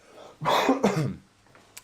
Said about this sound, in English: I've got a really bad cough, by the way, so I apologise for keep coughing